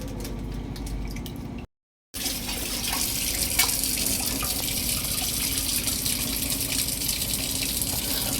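Water poured steadily into a glass of aam panna, a tangy salted raw-mango drink, in an office; a continuous close liquid splashing and trickling, briefly cut by a gap of silence, with no talk.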